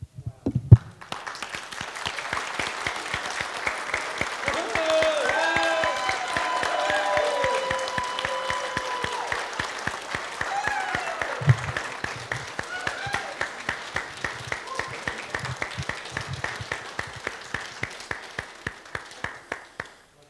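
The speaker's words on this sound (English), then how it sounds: "we're just going to clap and yell for you guys like crazy people" A church congregation clapping and yelling for Ben and Jeannie at a sermon, a dense, sustained burst of hands and cheers that gradually thins into rhythmic clapping, with some voices calling out.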